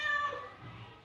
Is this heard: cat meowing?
yes